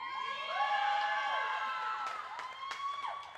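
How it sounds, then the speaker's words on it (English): Teammates applaud and cheer for a player at an indoor hockey finals award ceremony in Africa, a moderately distant crowd clapping and whooping under a sustained tonal hum of the hall. "Her teammates applauding like crazy, as they should."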